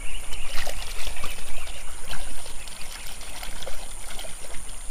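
Shallow river water trickles and splashes steadily as muddy dinosaur and animal toys are washed in it, a close, continuous babble with small bright splashes and no talk.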